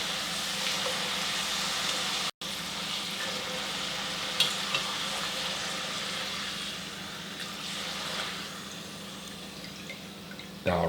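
French fries on their final fry bubble and sizzle steadily in hot oil, a constant close hiss with small crackles and a short dropout near the start.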